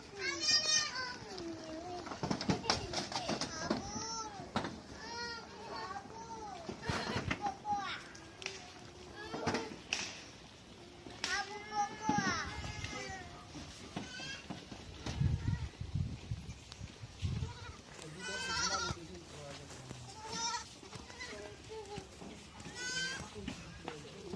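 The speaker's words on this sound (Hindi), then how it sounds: "आप लोग देखिए मेरी बकरियां कितनी अच्छी से खा रही है, चारों तरफ से लाइन से लग गई।" Goats feeding on prepared fodder, bleating repeatedly in overlapping calls, some near and loud, with a busy background of other animal and child-like voices throughout.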